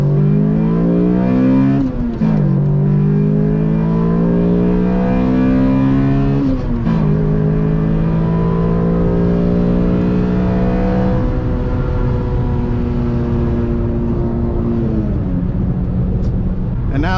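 Toyota Corolla XRS engine with a reflashed ECU revving and pulling through gears on the road, a loud, steady rising drone broken by two or three quick shift dips, heard from inside the car.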